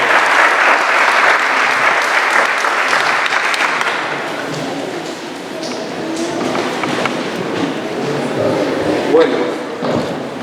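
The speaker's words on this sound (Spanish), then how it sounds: "Vamos a recibirlo con fuertes aplausos" Loud audience applause greets an anthropologist introduced at a folklore university centre's conference on the Santiago (Tayta Shanty) festival, swelling then thinning over ten seconds with voices murmuring beneath.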